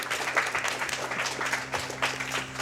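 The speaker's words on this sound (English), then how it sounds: "Very timely applause there." An audience at SGDQ 2016, a speedrun charity event, applauds during an Elder Scrolls: Arena run, with dense, steady clapping from a large crowd filling the hall for a few seconds.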